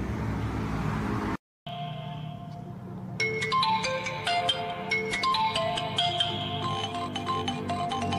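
A phone ringtone plays a bright repeating electronic melody, loud and close, after a brief silence cuts off earlier background noise.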